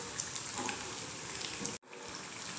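Balls shallow frying in oil hiss and crackle in a steady sizzle that breaks off abruptly near the end, then resumes.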